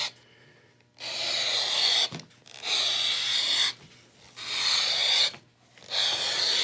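A draw gauge cuts a 3/4 inch leather strip for saddle bags in four steady, rasping strokes, each a second or more long, separated by short pauses, close and fairly loud with no talking.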